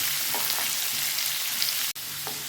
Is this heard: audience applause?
no